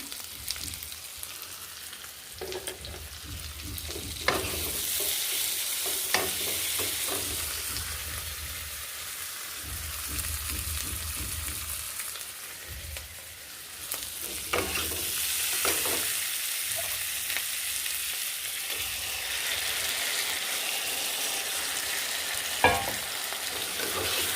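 Chicken being stir-fried into kosha in a pan for a mustard chicken curry, a bright sizzle rising and falling as a spatula scrapes and turns the meat in repeated strokes, close and steady with no talking.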